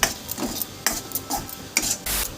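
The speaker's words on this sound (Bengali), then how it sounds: "লঙ্কাটা দিয়ে চালটা একটু কিছুক্ষণ ফোড়ন আর মশলার সাথে নাড়াচাড়া করে নেব" Spoon scraping and stirring green chillies with rice and tempering spices in a pan for a Bengali lau ghonto, a series of close, uneven clatters and scrapes over a faint sizzle, no talk.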